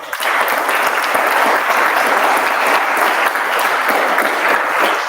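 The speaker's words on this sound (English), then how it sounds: "So can we have a huge round of applause?" Dense, loud round of applause from the audience at a joint meeting of two speaking clubs, continuous clapping from many people without a break.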